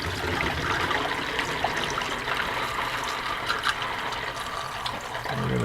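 Chilled water from the freezer poured through a sanitized funnel while topping up a gallon of homebrew, a steady continuous splashing trickle that stays close and fairly loud with no talk.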